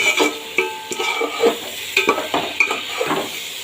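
Rice and spices stir-fried in a pan for mixed-dal khichuri with new potatoes and cauliflower, giving a steady sizzle broken by repeated scraping and clinking strokes of a spatula against the pan, close and fairly loud, with no talking.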